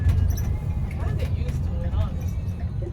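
A tour bus in Savannah, Georgia rumbles through narrow streets, a steady low engine drone close by with faint rattles, while people talk over it.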